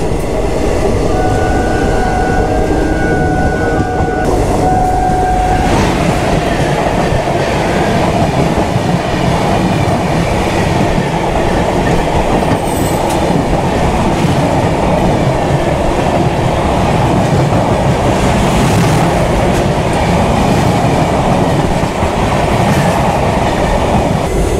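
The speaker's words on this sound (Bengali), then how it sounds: "তো আজকে সারাদিনের যে অভিজ্ঞতা হলো যে খুবই আস্তে আস্তে যাচ্ছে ট্রেন, যেখানে সেখানে দাঁড়িয়ে যাচ্ছে" A passenger train on an Indian rail journey from Malda toward Kharagpur, heard from inside: a loud, continuous rumbling roar of wheels on track with a brief sustained tone near the start.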